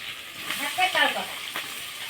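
Sliced onion hits hot oil in a pan with green chili paste for a Gujarati dish, giving a steady close sizzle and hiss, with a few sharper crackles as the pieces land.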